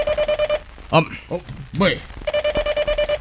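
A telephone rings in a family drama scene, steady trilling bursts at the start and again near the end, with spoken dialogue and a sharp shout in between.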